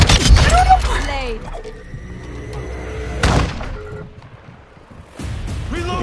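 Gunfire and booms in the Call of Duty Giant Infected game mode, several loud sharp shots and blasts spread across the moment, mixed with mechanical clanks while players talk excitedly over them.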